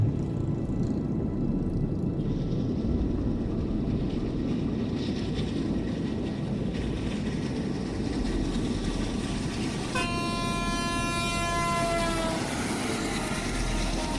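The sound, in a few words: train with engine rushing closer, train horn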